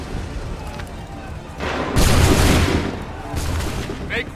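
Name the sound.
musket volley gunfire in video game Assassin's Creed III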